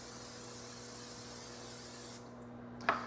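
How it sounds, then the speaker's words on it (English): Olive oil cooking spray hisses into a cooking pot in a long, steady, moderately close spray that cuts off sharply near the end, followed by a faint clink. "we're gonna get our fancy olive oil spray, upgrade from the Pam, and put that into our pot here"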